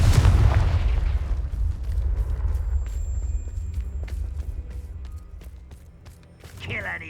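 A Confringo blasting spell in Hogwarts Legacy goes off as a loud, deep boom right at the start, then rumbles away under scattered game noise and a short flaring burst near the end.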